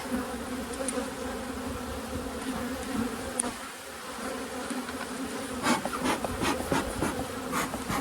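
Honey bees buzz densely and continuously around an opened hive whose brood chamber has just been pulled apart during a fall inspection. There are a few sharp scraping or knocking sounds near the end.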